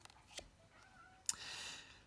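A house cat gives a couple of short, soft meows nearby in a quiet room, the second call slightly louder and more drawn out.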